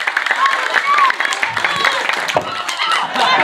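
Audience clapping at a Balinese temple performance at Pura Puseh, Gianyar, a steady dense patter of hands under cheerful chatter and voices calling out throughout.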